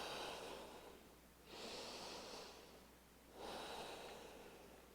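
Two slow, deep breaths during a beginners yoga session, each a long airy inhale swelling into a fuller exhale, close and soft with no talk over them.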